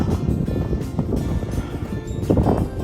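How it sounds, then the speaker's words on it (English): Strong wind on the snowy summit of Flattop Mountain buffets the microphone, a rough, low roar with gusty swells and rumbling throughout. "Oh, it's windy."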